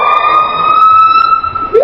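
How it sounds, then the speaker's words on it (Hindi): A common hawk-cuckoo gives its siren-like call: a loud, shrill, sustained whistling tone that sweeps sharply upward at the very end, heard alone with no voices. "नंबर 1, पीहा। इसकी आवाज सुनकर ऐसा लगता है जैसे कोई एम्बुलेंस या पुलिस की गाड़ी आ रही हो।"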